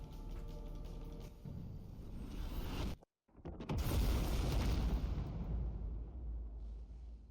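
A loud, deep boom erupts in the DarkSwitch city-builder game after a brief moment of silence, followed by a long rumbling roar that slowly fades over background game sound.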